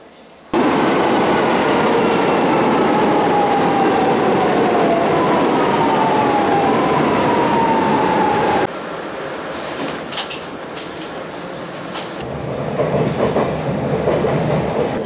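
A Lisbon Metro train roars in loudly with a rising rumble and squealing wheels, then slows and quiets as it pulls into the station, with faint clicks after.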